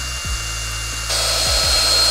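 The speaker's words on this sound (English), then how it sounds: "So I will now drill the holes through here." A power drill whirs close and loud while drilling holes through wood, with a few short pitch-swooping spin-ups and a harsher, grittier whine as the bit bites in partway through.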